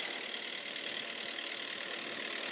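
Old Shibaura S30A tractor with a four-cylinder Isuzu C201 diesel engine running, a steady, even mechanical drone held at constant loudness, close and alone without talk.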